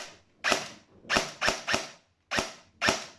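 A G&G TR16 airsoft rifle with pneumatic blowback fires five separate shots in an uneven semi-auto rhythm. Each shot is a sharp, loud crack with a short mechanical clack, and there are brief gaps between them.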